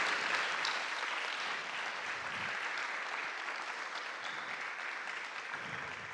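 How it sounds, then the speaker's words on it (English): A crowd at a diversity awards ceremony applauds the honorees, a continuous, even roar of many hands clapping that holds steady for the whole stretch, moderately distant. "Can we give another round of applause to all of our honorees?"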